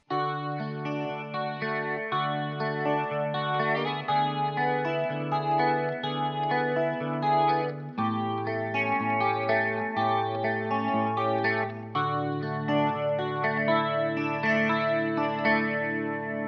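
Steady picked guitar arpeggios rolling through chord shapes that climb in pitch, with a shimmering chorus-like effect, continuous and fairly loud with no voices.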